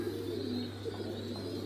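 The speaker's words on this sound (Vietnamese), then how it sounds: "Đây là chim bồ câu gà Mỹ anh em nhé." American giant pigeon squabs, only a few days old, coo softly at close range in a farm loft, with low, repeated burbling notes over a steady electrical hum.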